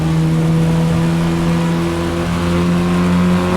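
Ford Escort race car from Assetto Corsa Evo in a multi-class race, its engine a loud, steady droning hum at constant pitch from inside the car.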